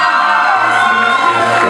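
A live audience cheers and applauds a finalist at the Miss Fashion 2016 semi-final, with dense, steady crowd noise of clapping, whoops and shouting filling the room throughout.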